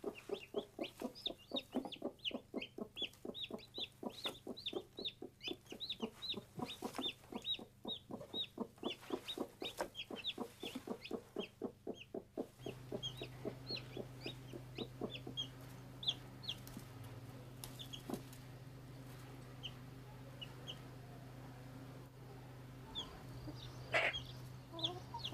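A farmyard hen clucks with her newly hatched chicks. Her rapid, regular clucks run close and clear for the first half, and then thin high peeps and scattered calls continue over a low steady hum.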